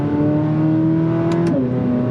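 A new 2025 Corvette Z06 engine, still limited to 6,500 RPM for break-in, holds a loud, close, steady rev, then its pitch drops sharply near the end, with no talking.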